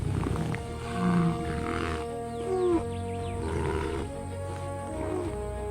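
Lion roaring on the African savanna, a few deep rumbling calls rising and fading over a steady background of birds and ambient wildlife, with no voices.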